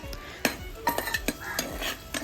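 Chopped onion frying in a little oil in a wok, with a light sizzle under sharp clinks and scrapes of a utensil stirring against the metal at an uneven pace, close up and with no talking.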